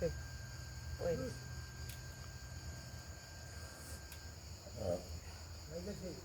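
Crickets chirp through a rural night in a steady, faint high-pitched drone, with a few low voices or noises rising briefly over the constant insect buzz.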